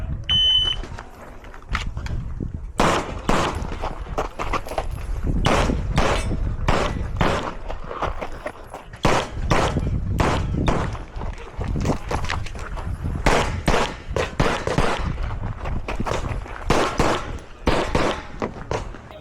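Pistol gunshots during a competition shooting stage, outdoors: a long string of loud, sharp cracks fired in quick bursts and pairs, with short pauses between target strings, close to the listener.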